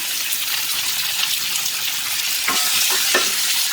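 Garlic, tomato and chillies stir-frying over a high flame in a pan for chilli chutney, a steady loud hiss of sizzling with a few sharp crackles and stirring scrapes, no voices.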